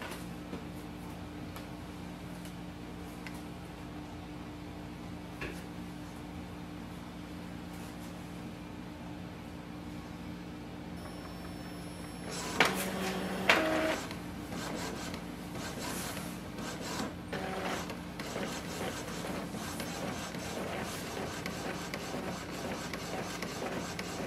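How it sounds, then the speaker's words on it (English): Epson ET-2400 inkjet printer running a nozzle check print, with a low steady mechanical hum, then a couple of sharp clacks midway followed by continued rasping, rubbing feed and print-head movement, close and fairly quiet. "Wait for the printer to print the nozzle check sheet."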